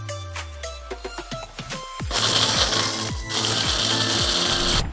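An electric mixer grinder crushing dried red chillies into chilli flakes, starting with clicking and rattling as the jar settles, then a loud, harsh, steady grinding roar with knocking pieces that runs to the end.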